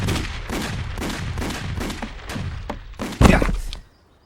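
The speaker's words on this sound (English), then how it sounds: "Fire at will." Cartoon gunfire: a rapid string of loud booming shots in a regular volley, ending with a heavier blast, then a cut-off.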